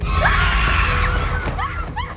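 Screams sound out in a narrated horror story, sharp rising and falling shrieks layered over a dim rumbling background, loud and close.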